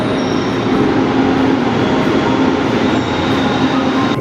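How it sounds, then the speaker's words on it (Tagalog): An LRT-2 train runs through an underground station at Katipunan, a loud, steady rumble of wheels and motors with faint high squeals, close and continuous, no talking. "this is an underground train station sa Katipunan"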